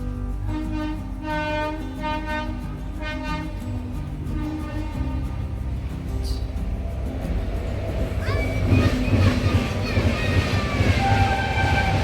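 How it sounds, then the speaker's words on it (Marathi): A train rolls past with a low rumble and rhythmic clatter, a horn-like tone sounding early on, and a voice talking briefly over it. "तर रेल्वे आली गाडी आली"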